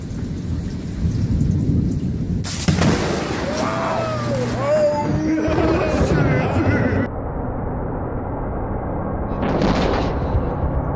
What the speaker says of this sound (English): Wicked thunder and lightning.